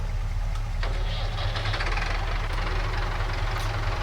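A tractor or forklift engine idles steadily in Farming Simulator 22 on a farm near a shed, a constant low rumble running unbroken throughout.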